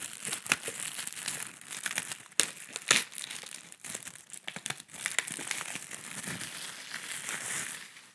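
Up close, a package wrapper crinkles and crackles in uneven bursts as it is handled and opened, with sharper rustling snaps now and then.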